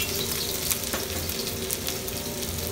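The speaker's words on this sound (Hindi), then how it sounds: "आपको वॉक का शोर भी दिखाते हैं थोड़ा सा, सुनिए।" Garlic and ginger sizzle steadily in hot oil in a wok, a dense continuous frying hiss with faint crackles, close and loud with no talking.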